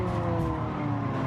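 A 2018 Ford Focus RS race car in Gran Turismo 7 brakes hard at the Tokyo circuit, tires squealing over a steady, droning engine note that holds through the whole brief moment.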